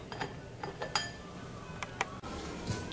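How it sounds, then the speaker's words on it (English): A metal pan is set into an electric rice cooker with a few light clinks and taps, a quiet scattered series of small metallic knocks against a soft background. "Now I am going to keep this pan into the rice cooker."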